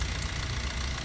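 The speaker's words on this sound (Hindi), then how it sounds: "यहाँ पे आप इसका इंजन नॉइज़ है वो सुन सकते हैं" A Maruti Suzuki Swift diesel engine idles with a suspected worn timing chain, a close, steady low drone with a rough, knocking texture running throughout.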